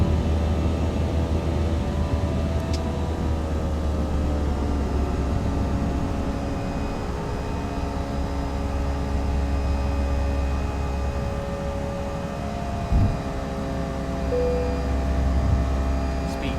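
Airbus A320 jet engines from the JAR Designs add-on with Blue Sky Star Sound in X-Plane 10, a steady loud turbine drone with whining tonal lines held throughout, with a brief thump near the end.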